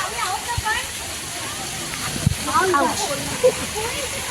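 A colony waterfall in Anushaktinagar, swollen after heavy rain, gives a steady, moderate wash of flowing water with small splashes, under nearby talk.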